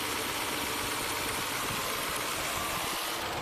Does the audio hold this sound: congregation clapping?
no